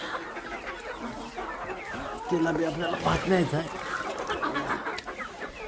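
Chickens cluck close by in short bursts while being fed rice and a person talks over them, the birds' calls rising briefly in the middle.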